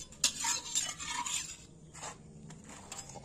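A ladle stirs in a pan as a mother cooks, giving a burst of close scraping and clattering strokes at first, then quieter, sparser scrapes and taps.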